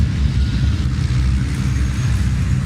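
Heavy racing truck engines at Pembrey, British Truck Racing Championship, rumble in a steady low-pitched roar as the grid waits for the red lights, a dense continuous drone with no clear individual revs standing out.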